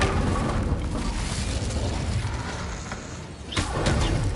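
Hogwarts Legacy Incendio fire spell: a steady rushing, crackling burst of magical flame, with a sharper whooshing flare near the end.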